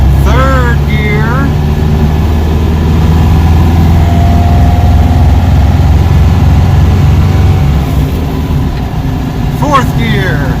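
A car engine runs loud and steady in third gear during a test drive on a 002 transmission, a low droning hum that stays constant throughout with occasional faint higher whines.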